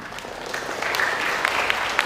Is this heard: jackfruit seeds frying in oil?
no